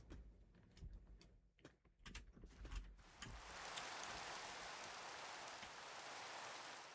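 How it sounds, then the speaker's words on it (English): Rain falls in the Minecraft video game, a soft, steady hiss of drops that starts after a few faint clicks and continues evenly, quiet and without talk. "Oh great, it's raining!"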